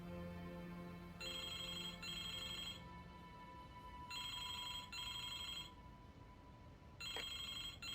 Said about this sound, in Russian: Excuse me, the telephone.